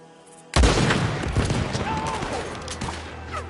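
Gunfire breaks out in Red Dead Redemption 2 story mode, starting with a sharp loud blast followed by a rapid volley of shots and booms that fade into scattered reports, with a voice briefly heard underneath.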